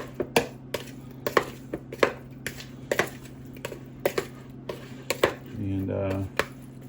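Shrimp stirred in a bowl for spicy tacos make a series of sharp, irregular clinks and taps of a utensil against the bowl, with a brief low hum near the end.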